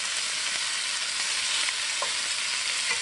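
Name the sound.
beef searing in a pan on high heat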